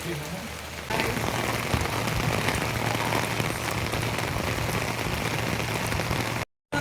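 Steady rain falls in a village during an outdoor workout, a dense, even hiss of drops striking surfaces close by, continuous with a brief dropout near the end.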